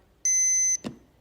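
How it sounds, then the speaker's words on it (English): An Abode home security keypad gives a single clean electronic beep lasting about half a second, close and clear, followed by a brief soft click. "And then you hear that beep, and then it turns on"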